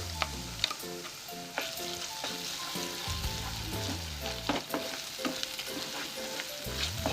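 Chili powder and ground spices frying for Kashmiri dum aloo, a steady close sizzle with stirring clatter and scraping throughout, no talk.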